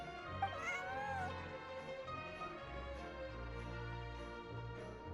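A collared female cat meows in a few drawn-out, rising and falling calls close by, over a low steady background hum.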